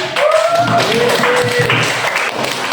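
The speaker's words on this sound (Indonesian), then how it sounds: "betul tepuk tangan dulu teman-teman" Students in an Indonesian classroom clap their hands together in a steady, dense burst lasting a few seconds, with young voices rising over the patter.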